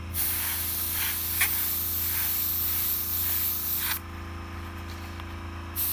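Steady close hiss of an airbrush spraying toxic-green paint through a fire stencil, continuous for about four seconds, then dropping to a fainter hiss with a low hum of the compressor beneath.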